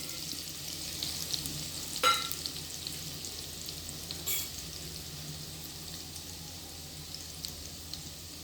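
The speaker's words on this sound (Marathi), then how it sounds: "त्यानंतर मी त्याच्यात जिरे आणि मोहरी टाकली।" Cumin and mustard seeds sizzle in hot oil with garlic cloves already reddened, a steady crackling fry with a sharp pop near the two-second mark and another burst a little later, close and alone.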